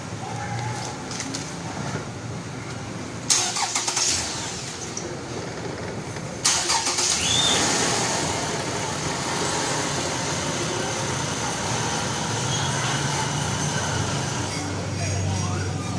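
A car engine is cranked with a multi-function jump starter, with two sharp cranking bursts before it catches and settles into a loud, steady close idle.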